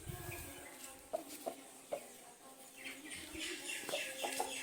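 A Sandhanapathi rooster on a farm gives a few short, distinct clucks spaced through the moment, fairly close, over a busy outdoor background with faint birdsong.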